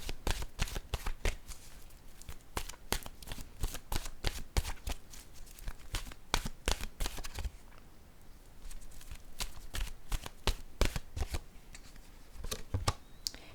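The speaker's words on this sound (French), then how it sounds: "Je vais piger une carte maintenant de mon oracle de l'âme intuitive." A deck of oracle cards being shuffled by hand, a close, continuous crisp riffling and flicking with rapid papery snaps throughout, no voices.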